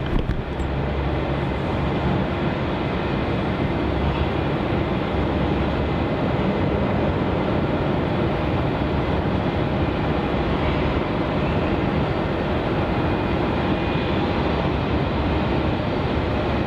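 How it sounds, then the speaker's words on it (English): A Virgin Australia Boeing 737-800 departs Melbourne's runway 27, its jet engines giving off a steady, loud broadband roar that holds unbroken from start to finish. "Our next departure off runway 27 is VA 733 heading off to the Gold Coast, the 737-800 for Virgin Australia."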